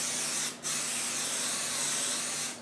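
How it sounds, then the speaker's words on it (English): Spray basting adhesive is sprayed onto a quilt in a steady, close hiss, broken briefly by one short pause before the spraying resumes and then tapers off at the end. "I'm going to start from that side, and I'm just going to give it a light spray"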